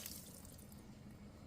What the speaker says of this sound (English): I'm adding the boiled water from the kettle